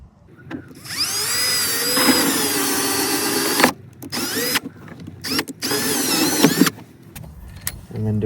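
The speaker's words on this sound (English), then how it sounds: "We'll drill our second hole." A power drill cuts a hole through plastic on a Suzuki Jimny during a wiring harness install, its whine rising and falling in several close bursts separated by brief gaps, with a voice talking briefly.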